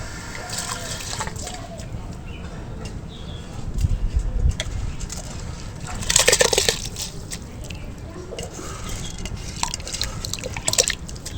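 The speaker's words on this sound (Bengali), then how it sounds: "তো এবার আমি ধুয়ে রাখা চালটা দিয়ে দেবো।" Washed rice is tipped into a pot of water already at a boil, giving soft splashes, drips and a bubbling slosh, fairly faint, with a voice talking over parts of it.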